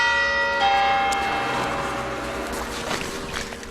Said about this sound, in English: Is this the right church with the bells ringing?